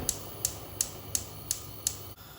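A gas stove burner being lit while making pickled sweet garlic: six sharp, evenly spaced igniter clicks, close and crisp, over a low steady hiss of gas.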